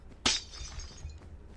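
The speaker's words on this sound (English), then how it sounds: "The ceramic shattering sound is very therapeutic." A ceramic plate dropped and shattering in Minecraft gives one sharp, bright crash with scattering fragments, then quiet game ambience.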